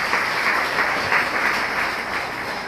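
Congregation applauding at a church service, a steady dense wash of clapping from many hands that holds level throughout with no voices over it.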